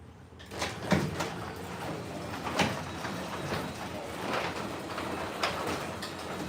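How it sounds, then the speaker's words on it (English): A Tesla Model S Plaid door is shut, giving a firm thud among several lighter clatters and knocks in a quiet garage-like space, with no talking. "I think I'm gonna shut this door too."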